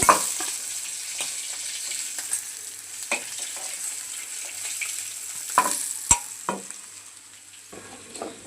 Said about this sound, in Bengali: মাছ ভাজা হয়ে গেছে, এখন নামিয়ে নেব